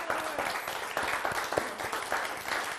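A live audience at an evening talk by Doyle Bransom applauds and cheers, with dense, sustained clapping throughout, loud and close.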